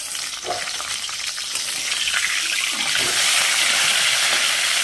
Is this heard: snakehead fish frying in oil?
yes